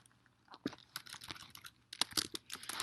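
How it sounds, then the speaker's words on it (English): Keys clatter on a computer keyboard in quick, uneven bursts of close taps with brief pauses, no voices over it. "I'll type that out."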